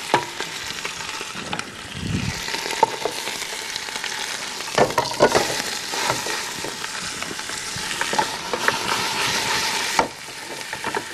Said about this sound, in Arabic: رح حطه، رح قليله، قليه من جميع